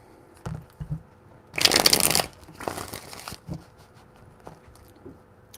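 Tarot cards being shuffled by hand, two main riffling bursts in the middle, with scattered soft taps and handling noises before and after, close and fairly quiet.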